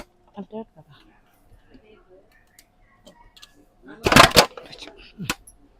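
Kitchen bowls with transparent lids clink and rattle in a brief loud cluster of clattering knocks, with a single tap shortly after, following quiet handling and a few scattered faint sounds.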